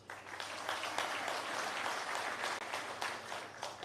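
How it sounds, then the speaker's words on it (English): Soft applause from an audience at a State of the Nation event, a quiet, steady patter of scattered clapping with no talk over it. "Soft applause"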